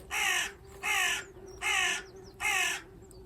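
A crow caws four times in steady succession from an August allotment garden, harsh and loud, each call about half a second long, with faint birdsong behind.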